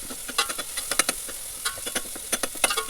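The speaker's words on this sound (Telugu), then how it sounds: "టమోటాను అంతా బాగా నూనెలో బాగా వేయించాలి." Tomatoes fry in oil in a pan for an avarekai (field bean) curry, giving a steady crackling sizzle with irregular sharp pops and occasional stirring scrapes, close and moderately loud, with no one speaking.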